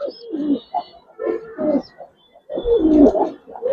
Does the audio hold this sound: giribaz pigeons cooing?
yes